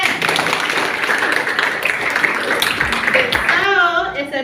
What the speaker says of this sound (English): Give applause to your friend.